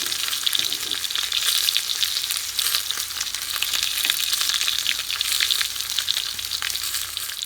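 A steak sears hard in a hot pan on a camp stove in a van, giving a loud, steady, continuous sizzle with crackling spatter and no talk.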